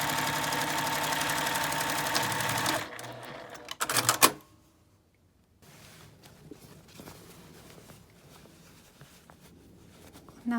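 A sewing machine stitches a drawstring bag seam at about a one-centimetre allowance, running as a steady loud whir for a few seconds. Then come a brief clattering burst, near silence, and softer fabric handling sounds.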